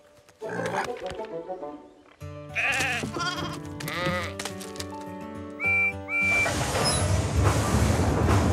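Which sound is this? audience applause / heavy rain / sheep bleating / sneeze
sheep bleating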